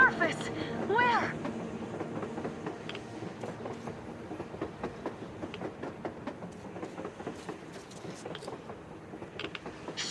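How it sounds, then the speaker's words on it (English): A train rolling across the surface in the Metro Exodus video game, a steady rumble with rhythmic clicks and metallic clacks that carries on throughout, and a burst of louder noise near the start. "A damn train on the surface!"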